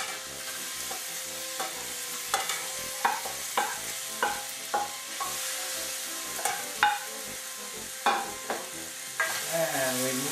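Diced, cored Fuji apples are stirred through a butter mixture in a pan, a steady sizzle punctuated by regular scraping knocks of the utensil every second or so, close and without speech.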